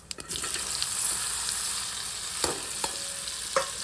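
Stuffed spiny gourds go into hot oil tempered with mustard seeds and cumin, setting off a steady sizzling hiss, with a few sharp clatters at the start and scattered utensil knocks later on.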